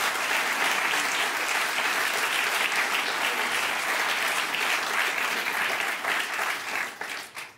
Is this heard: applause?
yes